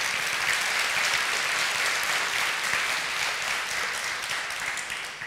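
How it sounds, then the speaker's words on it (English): A church congregation on Compassion Sunday claps in steady, dense applause that holds close and even, then begins to taper off toward the end. "Would you give them one round of applause as well?"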